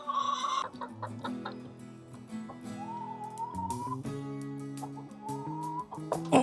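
Chickens cluck and murmur close by in a busy, overlapping chorus, with occasional higher calls rising over the flock.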